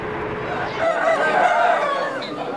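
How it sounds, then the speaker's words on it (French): A fighting rooster crows loudly and close in a Nicaraguan farmyard, one long drawn-out call with some clucking and faint voices around it. "Le coq de combat, le roi de la basse-cour, fait l'objet de l'admiration de tous."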